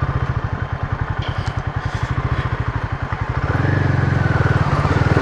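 A Royal Enfield Himalayan 450 adventure motorcycle runs close by on a muddy trail, its single-cylinder engine thumping at a steady low pulse, then revving up louder and smoother over the last couple of seconds.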